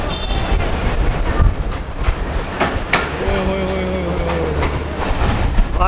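A crowded passenger train creeps along slowly with a loud, continuous low rumble and rattle of the carriages. A thin wheel squeal rises briefly midway.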